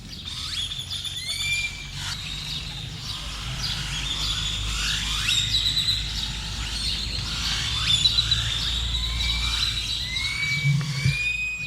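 Many birds chirp and whistle in Moctezuma's aviary, their bright calls overlapping steadily over a low background rumble, with a horse-like whinny mixed in.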